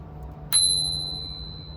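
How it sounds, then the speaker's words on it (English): A Rock Bros bicycle bell, a Spur Cycles-style bell on a 1990s Rockhopper bike, gives one sharp, clear ding that rings on and slowly fades over a low steady background hum. "This is the Rock Bros bell."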